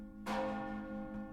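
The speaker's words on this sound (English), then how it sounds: "The town bells!" Town bells ringing in the Lord of the Rings Online game, a resonant church-style bell struck with a sudden loud onset, then a sustained, evenly pulsing ring that fades slowly, with a second strike near the end.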